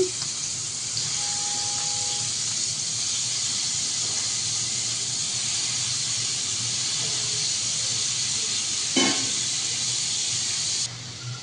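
Soy chunks fry in a few spoons of hot oil, giving a loud, steady close hiss that stays even throughout, with a brief brighter sputter near the end and no talking.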